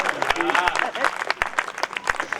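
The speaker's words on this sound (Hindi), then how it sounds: "क्या तालियां प्रसाद जी, सब लोग बजा रहे" Audience applause breaks out at a Hindi comic poetry gathering: dense, steady clapping from a crowd for a couple of seconds, with a voice talking over it.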